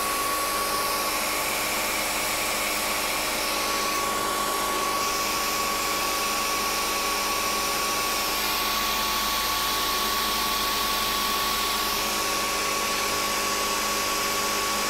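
A CNC Bridgeport mill cuts sheet aluminum with a quarter-inch solid carbide four-flute end mill fed at 5 inches per minute. It gives a loud, steady, hissing machine roar with a constant whine that runs the whole time, with no talking.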